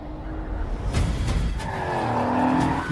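Race cars in an action film overtake each other at speed, engines howling loudly with tire squeal and a rising whine as one car sweeps close past.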